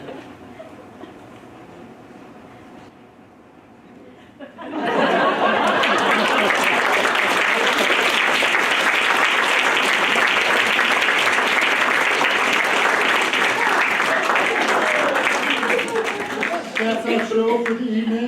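An audience at a senior community theater show bursts into loud, sustained applause for the cast of the play The Sneeze. The clapping starts abruptly after a quieter stretch of talk and carries on to the end.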